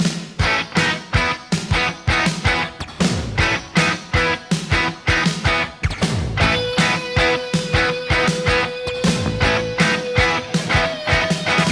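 Electric guitar plays the intro riff of a song in standard tuning, a loud, tightly rhythmic run of short choppy chord stabs with a sustained high note held through the second half, played alone.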